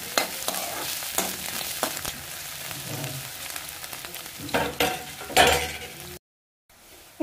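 Onions frying to golden brown in a pan make a close, steady sizzle broken by spatula scrapes and stirring clinks, then cut off into silence near the end.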